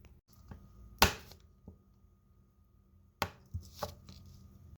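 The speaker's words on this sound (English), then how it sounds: "Collect your remaining half stick and cube that up." A knife cubing a cold half stick of butter on a cutting board for chocolate chip cookies, a few sharp, distinct chops spaced apart with quiet gaps between them, close up and alone.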